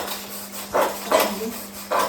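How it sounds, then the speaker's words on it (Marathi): Dishes being washed in a home kitchen, with a few sharp clinks and clatters of utensils knocking together at irregular intervals over a low steady hum. "लगेच भांडी घासते"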